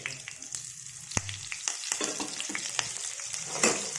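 Cumin seeds crackling and spluttering in hot oil in a pan for a cabbage and potato curry, a close sizzle with sharp pops and a few utensil knocks, no talk.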